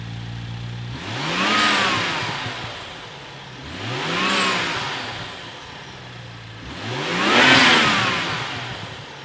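A BMW F30 with the N55 turbocharged inline-six on its stock intake revs three times, each blip climbing and falling smoothly over an idle between them, heard close and clear.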